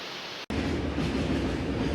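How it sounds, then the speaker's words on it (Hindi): A freight train rumbles across a railway bridge over the Koel River in Jharkhand, a loud, continuous rolling roar with rhythmic clatter after a brief cut, heard up close. "बीते 1 घंटे से यहाँ से केवल मालगाड़ियाँ ही गुजर रही हैं"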